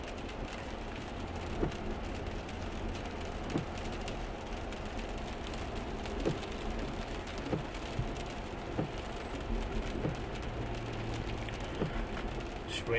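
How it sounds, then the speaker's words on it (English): Steady rain patters on a Lexus LX 470 from inside, a constant hiss with occasional louder taps and a low engine hum underneath. "It's raining today"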